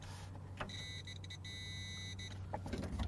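A replacement door lock actuator motor on a PT Cruiser buzzes faintly in short electric whirring bursts over a low steady background hum, with soft clicks between them.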